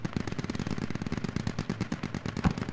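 Rapid machine-gun fire in the military video game Squad, dense continuous bursts of shots, loud and close.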